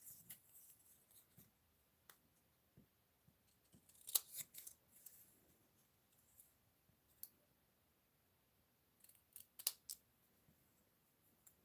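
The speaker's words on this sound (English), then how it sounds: "we're going to bring in our scissors and we're going to trim" Scissors trim craft material with soft, faint snips and clicks scattered irregularly across a quiet room, a few sharper cuts standing out among the gentler ones.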